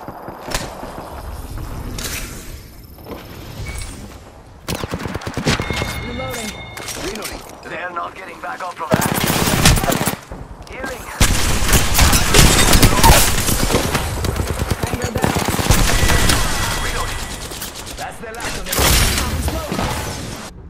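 Gunfire in the video game Apex Legends, bursts of rapid automatic fire and single shots with glassy impact crashes and game sound effects, loud and near, mixed with in-game voice callouts.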